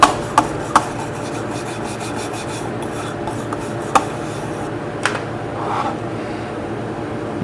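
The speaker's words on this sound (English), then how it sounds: "Give it a quick wire brushing." Wire brush scrubbing a TIG weld joint, steady close scratchy rubbing with a few sharp clicks and knocks scattered through it.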